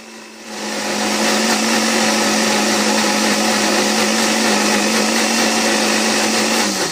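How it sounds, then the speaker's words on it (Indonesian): A blender motor starts up and runs at a loud, steady whir for several seconds, grinding ice cubes for a diet drink in a continuous roar. "ini kita blender lagi menggunakan es batu"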